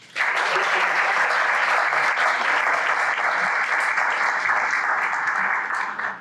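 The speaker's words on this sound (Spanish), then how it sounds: "para quien solicito un fuerte aplauso" A conference audience applauds the arrival of Senator José Erandí Bermúdez Méndez, a dense, steady clapping that holds at full strength for about six seconds before stopping abruptly.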